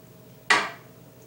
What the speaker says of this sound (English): First, you slice it into